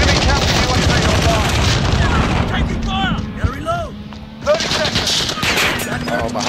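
Loud, dense automatic gunfire in Call of Duty: Modern Warfare multiplayer, continuous rapid bursts with a short lull in the middle and voices shouting over the shooting.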